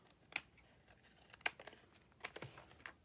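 Scissors snip through a paper bag in a few sharp, close cuts with crisp paper rustling between them, each snip spaced about a second apart.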